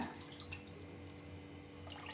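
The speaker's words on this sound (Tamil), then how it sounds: "இந்த மாதிரி தண்ணியை சுத்தமாக வடிகட்டிக்கணுங்க" Soft trickle and splash of water draining from soaked chana dal as it is strained, faint and steady, with a few brief splashes at the start and end.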